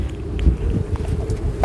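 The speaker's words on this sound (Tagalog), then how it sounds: "grabe kag kusog ang hangin" Strong cold wind on Mount Sinai, a low, rumbling rush buffeting the microphone with uneven gusts, loud and continuous with no voices.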